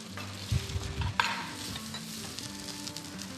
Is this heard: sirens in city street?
no